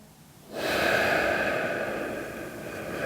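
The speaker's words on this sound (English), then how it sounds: "take a deep breath, in through your nose, and out through your nose" Close, deep breathing through the nose: after a quiet half second one long, airy breath starts abruptly and rushes on steadily, easing slightly toward the end, with no talking.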